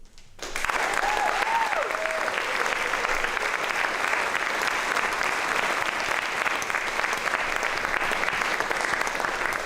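An audience at a Grade 8 promotion ceremony at Thaden School bursts into applause after a brief pause, then keeps up dense, steady clapping at an even loudness for nearly ten seconds.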